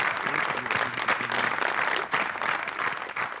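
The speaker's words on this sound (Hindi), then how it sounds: "तो आइए तालियों में इस्तकबाल कीजिए" A studio audience on a talk show applauds to welcome guest Jawad Ahmad: dense, steady clapping that fills the room at moderate loudness, with a faint voice underneath.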